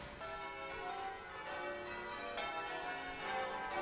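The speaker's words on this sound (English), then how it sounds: "in the distance we can hear the Minster bells ringing out" Wimborne Minster church bells ring out in the distance over a riverside town, a faint, steady peal of overlapping tones with no voices.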